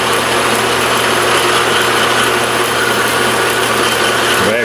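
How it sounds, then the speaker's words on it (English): A Hamilton 14-inch metal lathe turning at about 460 RPM gives a steady, loud mechanical drone with a constant motor hum and a bright whine over it, with no change in pitch from start to end. "This is on my Hamilton 14-inch lathe, so I don't have variable speed on it. Running about 460 RPM."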